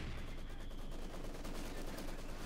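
MG42 machine gun fire in Company of Heroes 2, a dense, continuous battlefield clatter of automatic bursts and scattered gunshots that holds steady and fairly distant throughout.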